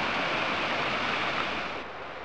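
Waterfall at the Ai-Dimitriy tract in the Yauzlar area near Yalta: a continuous broad hiss of falling water, steady and even throughout and easing slightly near the end, with no voices.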